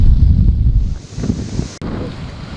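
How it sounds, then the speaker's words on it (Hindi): Strong winds from Cyclone Biparjoy buffet the microphone with heavy low rumbling gusts, easing slightly midway before a sharp crackle, with rain and surf-like wash underneath and no talk. "तेज हवाएं चल रही है, बारिश हो रही है।"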